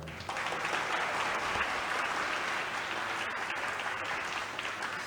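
An audience at a Srimad Bhagavatam class applauds steadily for about five seconds, a dense, even wash of clapping with no voices over it.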